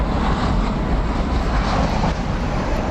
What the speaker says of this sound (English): now we can see that the Atlas here is going to go out on runway 18 short